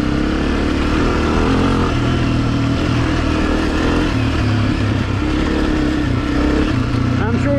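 A Honda CRF250F dirt bike engine revs and runs loudly and continuously up close on a Hatfield McCoy trail, steady throughout with a brief voice near the end.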